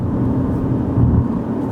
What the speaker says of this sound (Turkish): Bir de çok az lastik sesi alıyorum.